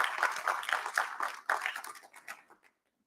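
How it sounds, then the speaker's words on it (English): An audience at a university president's town hall at Morehead breaks into applause, a dense patter of claps that holds steady for over two seconds, then thins and stops abruptly. "Please join me in giving them a round of applause, a round of appreciation."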